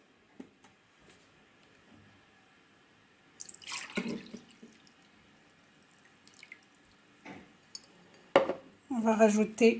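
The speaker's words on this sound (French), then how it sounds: "On va mettre à peu près 1 litre, moins d'1 litre. 800 millilitres d'eau." Water is poured into a large salad bowl of sugar for vegetable pickles. It comes as short, splashy pouring bursts with drips and light clinks, separated by quiet stretches.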